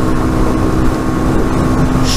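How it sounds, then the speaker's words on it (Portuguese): A Dafra NH190 motorcycle engine idling steadily nearby, a continuous low rumbling putter that stays even throughout. "a moto funcionando de boa"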